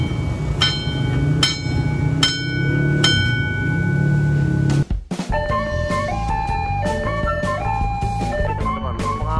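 A Kuto Jaya Utara passenger train approaches and rolls past the JPL 109 level crossing at Cikarang, its horn sounding in short repeated blasts before a loud, steady rumble of wheels dominates up close.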